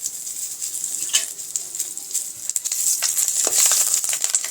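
Chillies and spices fry in hot oil for a tempering, giving a loud, steady, close sizzle with busy crackling that swells toward the end.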